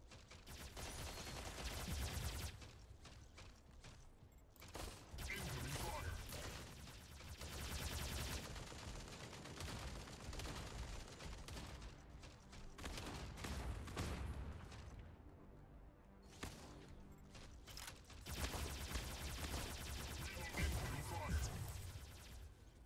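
Video game gunfire crackles in repeated bursts and rapid volleys, with loud sharp cracks and impacts crowding the whole stretch at close range and only a brief lull midway.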